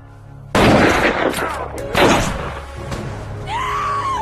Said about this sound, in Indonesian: tiba-tiba Joe yang masih hidup hampir menghabisi Frank dari atas, namun dengan cepat Frank menembaknya